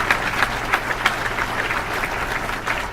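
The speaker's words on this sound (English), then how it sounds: "a round of applause" A dinner crowd at a conference center gives a round of applause for the staff, steady dense clapping of many hands throughout, with no talk over it.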